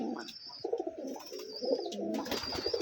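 Rajshahi Giribaz pigeons coo close by on a farm, several soft throaty coos overlapping in a steady murmur with a few thin chirps above.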